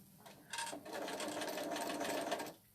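A sewing machine stitches through fabric in one continuous run of about two seconds, a steady rapid whirring clatter at close range that starts and stops abruptly.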